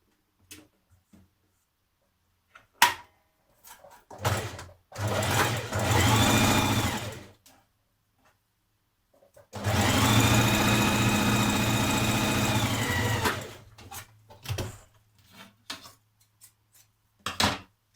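A sewing machine stitches a seam on a tiered skirt in two sustained runs, the second longer, with a steady close whirr and short pauses and clicks in between.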